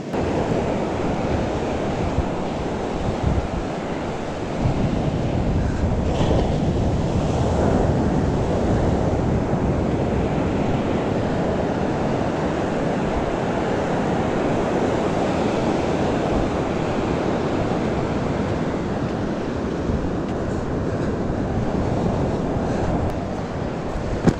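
Waves break on an Ensenada beach at high tide, a steady, loud wash of surf roaring without pause and mixed with gusty wind buffeting the microphone.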